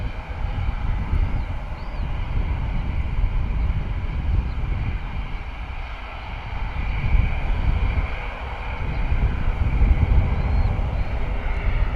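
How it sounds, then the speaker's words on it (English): ATR 72-500 turboprop airliner at Bristol Airport powering up for takeoff, a steady broad engine roar heard from a distance with wind noise, swelling slightly over time. "Pretty nice getting the ATR 72-500."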